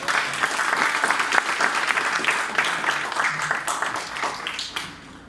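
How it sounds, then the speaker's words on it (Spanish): Audience applause for an author at a book presentation at an international book fair, a dense, steady wash of many hands clapping that fades out toward the end. "Démosle un fuerte aplauso."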